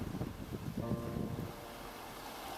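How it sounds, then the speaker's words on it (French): Strong wind buffeting the microphone on a kayak trip around New Caledonia's Grande Terre, a rough, low rushing roar with a gust for the first second and a half, then steady blowing. "Le vent est toujours aussi fort."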